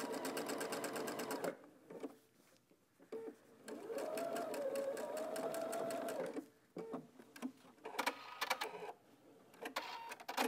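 A sewing machine top stitches along the folded opening of a Christmas stocking, running in steady whirring bursts broken by short stops and restarts, close up with no talking.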